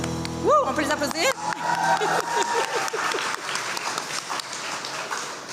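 A student-event audience applauds award finalists at a university gala, with dense clapping that swells and continues steadily after a brief tonal sound at the start.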